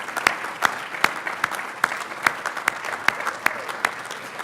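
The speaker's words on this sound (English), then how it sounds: "And I think we should all give her a round of applause." Guests at a luncheon give a warm round of applause, a dense patter of many hands with loud, sharp claps from nearby punctuating it throughout.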